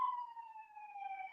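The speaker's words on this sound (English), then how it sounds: "Y'all can hear them sirens loud as day right outside my house" A police siren wails steadily outside a house in Philadelphia, its tone gliding slowly downward and rising again at the end, loud and sustained with no talking.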